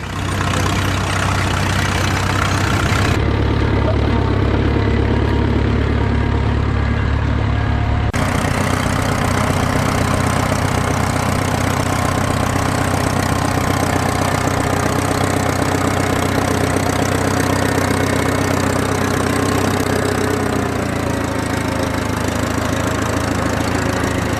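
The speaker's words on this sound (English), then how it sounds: "a 1938 Case Model C built in Racine, Wisconsin." A 1938 Case Model C tractor built in Racine, Wisconsin, runs at a steady idle at an outdoor working event, its low engine drone loud and continuous throughout, with a brief shift in tone early on.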